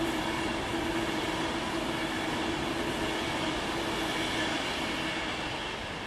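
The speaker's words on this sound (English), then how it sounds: "Here comes a Pendolino. (390, 132), I think." A Class 390 Pendolino electric train, unit 390132, passes at South Hampstead, giving a loud, steady rushing rumble of wheels on rail with a faint tonal hum, close by and with no voices.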